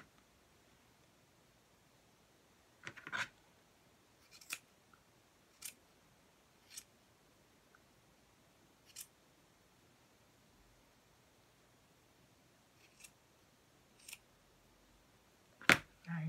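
Scissors snipping the uneven ends of a yarn tassel on a beginner weaving project, a handful of short, separate crisp cuts spaced a second or more apart in a quiet room.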